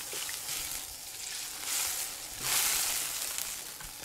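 Bullfrog pieces go into a hot wok with seasoned sauce and konjac, giving a soft sizzle that swells twice as the food is added, with no talking.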